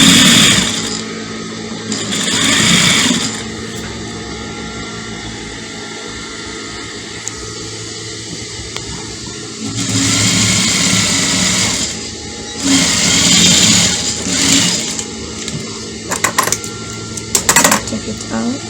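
Sewing machine stitching fabric for a peplum dress, running in several loud bursts of steady mechanical whirring with quieter handling sounds and pauses between runs.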